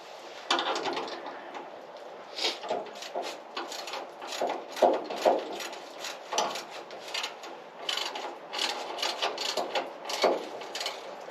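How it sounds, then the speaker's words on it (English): A ratcheting wrench works on a 1961 unibody pickup while a Crown Victoria fuel tank is fitted, giving steady bursts of quick mechanical clicking at close range with no talking. "I have a ratcheting wrench, so if I can figure out how to use it."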